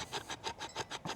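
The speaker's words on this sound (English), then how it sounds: "This is actually for scraping wood or bark." A mid-sized survival knife scrapes back and forth across wood to raise fire shavings, making a quick, rhythmic series of about seven rasping strokes, close and fairly quiet.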